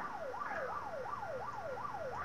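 A fire truck siren in the Unturned video game wails in a steady rising-and-falling cycle, about five sweeps in two seconds, loud and continuous with nothing else over it.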